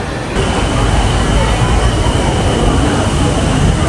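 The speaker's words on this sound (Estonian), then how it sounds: "Aga nüüd me rändame mööda metrood." A metro train ride in Thailand brings a loud, steady rumble and roar from a moving carriage, with a faint high whine running through it and no letup.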